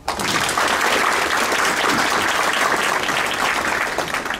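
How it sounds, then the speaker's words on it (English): At a staff awards ceremony, an audience breaks into loud, sustained clapping for an honoree, steady and close throughout. "Let's give him another round of applause."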